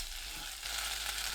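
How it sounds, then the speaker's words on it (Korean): Onion, potato and zucchini stir-frying in oil in a pan for a Korean doenjang stew, giving a steady close sizzle that swells louder partway through, with no talk. "지글지글 소리 나면 중약불로 낮추고 1분 30초 볶습니다."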